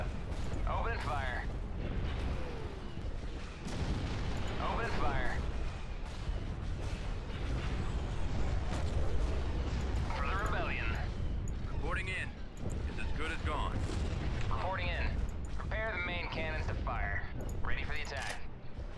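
Space battle weapons fire in Empire at War: Awakening of the Rebellion, with continuous booming and rumbling blasts and scattered sharp laser-like bursts running throughout, under intermittent radio-style voices.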